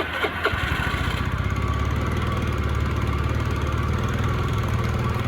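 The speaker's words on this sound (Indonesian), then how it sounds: "langsung kita tes hidupkan motornya" A carbureted Honda Scoopy scooter engine fires up and settles into a loud, steady, close running drone with a slightly uneven beat throughout.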